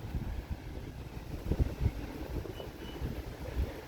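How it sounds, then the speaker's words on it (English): Gusty wind blows steadily outdoors on a warm evening before a storm, a low rumbling buffeting with stronger gusts near the middle, continuous and fairly close. "it's windy out here"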